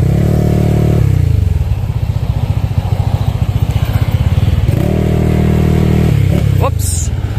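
A Honda Click 175cc scooter with a remapped stock ECU runs loud and close during a road test, its engine droning steadily with rising and falling revs and a rattling pulse, plus a brief high squeal near the end.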